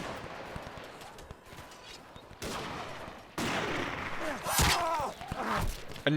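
Gunfire in the video game Between Empires: scattered musket-style shots and bursts crack amid battle noise, growing louder and denser toward the end, with faint voices and clatter mixed in.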